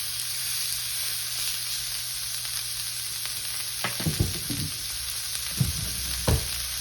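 Flat iron steak sears in a hot pan with a steady, loud sizzle, interrupted by a few clanks and scrapes as the pieces are flipped.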